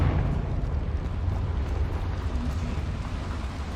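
A Confringo fire spell blasts in Hogwarts Legacy, a dense roaring rumble that holds steady and loud for several seconds without a sharp onset.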